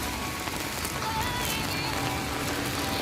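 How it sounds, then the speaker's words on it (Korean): Heavy rain pours down in a steady, dense hiss of drops striking surfaces, continuous and fairly close, with no one speaking. "딱 비가 많이 오네요"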